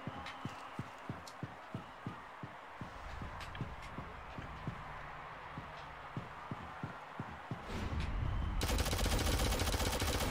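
In the Shadowgun Legends video game, a weapon fires in a steady rhythm of sharp, evenly spaced shots. A louder, dense burst of gunfire and action noise then erupts near the end.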